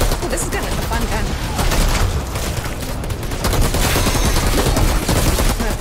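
Dense, rapid gunfire from a gun in the looter-shooter video game Outriders, sustained automatic bursts with heavy crackling impacts filling the whole stretch, loud and continuous with game noise underneath.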